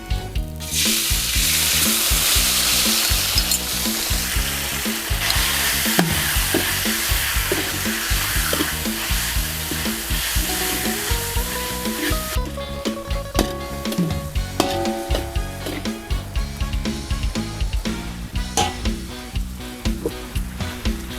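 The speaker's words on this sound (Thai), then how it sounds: "เราก็จะใส่หมูนุ่มลงไปผัดนะคะ" Marinated pork tossed into hot oil after fried minced garlic sizzles loudly in a pan, with steady frying hiss and repeated scraping stir strokes, the sizzle thinning later as a spatula clatters.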